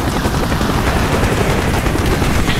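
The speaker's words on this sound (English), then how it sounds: "Taking AAA fire from the deck!" Anti-aircraft fire from a ship's deck in Call of Duty Black Ops roars as a dense, continuous barrage of rapid bursts and rumbling blasts, loud and close, with no gaps across the whole stretch.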